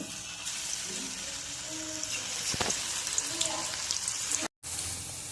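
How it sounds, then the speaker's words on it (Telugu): Okra frying in hot oil gives a steady sizzle and crackle throughout, with a sharp clatter midway and a brief dropout near the end. "ఇప్పుడు ఇందులో ఆయిల్లో వేసి వేయించుకోవాలి"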